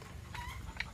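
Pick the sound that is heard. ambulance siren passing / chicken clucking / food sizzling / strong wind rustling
chicken clucking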